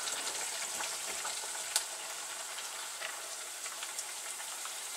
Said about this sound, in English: Now the onions go in with the sausage.